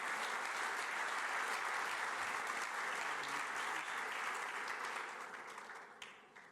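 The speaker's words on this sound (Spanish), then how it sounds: "Le da un aplauso ahí a la palabra del Señor." A church congregation applauds in steady, dense clapping that is fairly quiet overall and tapers off toward the end.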